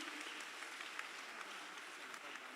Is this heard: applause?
yes